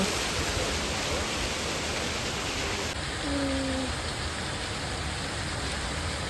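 A waterfall-like wall of water at a zoo gives off a steady, rushing wash of noise at low volume, with faint background sounds throughout.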